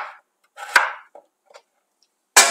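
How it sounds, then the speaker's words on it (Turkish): Large chunks of potato are cut on a board, with a few sharp, close knife chops spaced irregularly and quiet pauses between them. "Patateslerimi iri iri doğruyorum."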